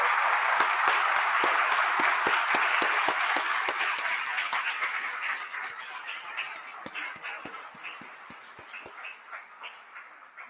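Audience applause at the closing conference of a labor law colloquium starts as a steady wash of clapping, then thins into scattered individual claps that fade over about ten seconds.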